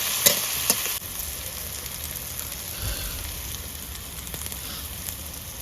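Onions fry in a pan until reddish brown, sizzling steadily and close by with a couple of light clicks near the start and no voices.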